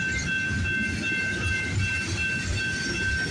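A CP freight train of grain cars and steel coil loads passes close at night, a loud unbroken rumble of rolling wheels with a faint high steady whine above it.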